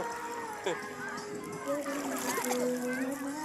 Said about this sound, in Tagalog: nandito kami ngayon sa ilog. Naliligo.